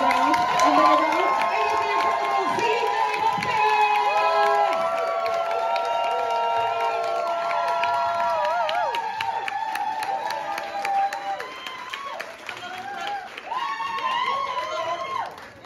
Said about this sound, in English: If we can start the applause and the cheering at this table here.